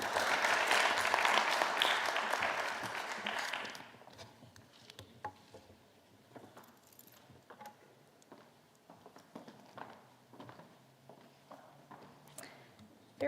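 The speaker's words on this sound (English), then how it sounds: "Let's give one more round of applause" A burst of applause at a college business competition lasts a few seconds, then fades to scattered footsteps and light taps in a quiet room.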